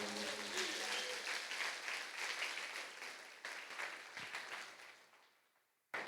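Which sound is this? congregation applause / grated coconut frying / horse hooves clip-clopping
congregation applause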